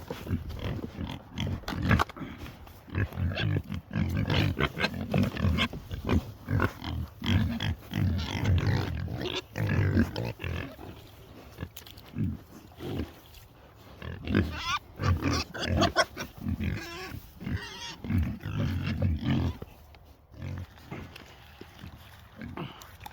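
Pigs and newborn piglets grunting and oinking up close on a farm, frequent overlapping snuffles and squeals with people talking intermittently over them.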